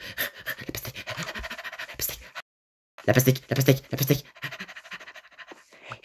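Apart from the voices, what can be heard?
fox panting in a video game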